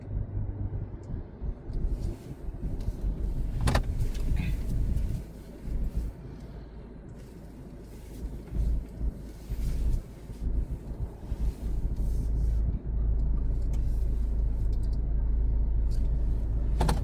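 Steady low rumble of a car driving, heard from inside the cabin, with road and engine drone, some wind buffeting and occasional bumps throughout.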